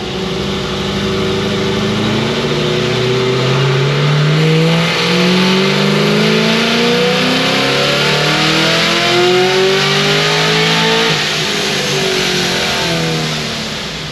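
A procharged Chevy SS V8 on a dyno pull, running on pump gas, roars loud and close with a long continuous rising rev sweep through the gears, holding high before easing off at the end.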